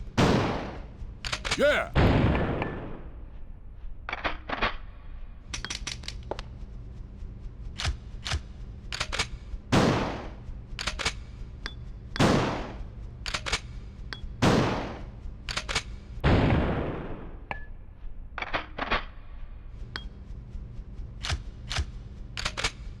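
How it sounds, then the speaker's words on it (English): Shotgun-like weapon in Resident Evil Outbreak File 2, a two-shell gun, booming through repeated loud shots with sharp mechanical reload clacks between them, spread across the stretch, with a brief shout near the start. "Sounds a lot like a shotgun in both firing and reloading"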